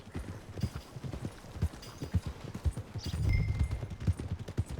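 Steady clip-clop of horse hooves walking at an even pace in the video game Red Dead Redemption 2, close by, with a soft background ambience and a faint rise in rumble partway through.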